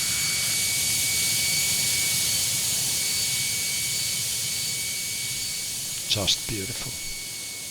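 Jet aircraft landing on runway 25 at Stuttgart airport, a loud sustained roar and high whine dominating, gradually easing, with a brief voice speaking near the end.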